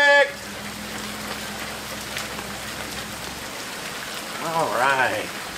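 Rain falls steadily in a yard where a 2000-pound shed is being moved, a constant soft hiss under a brief human voice near the end.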